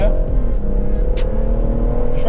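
A stage-one tuned BMW M140i with a B58 engine in sport mode gives a loud, steady engine drone close up, with a voice briefly audible over it.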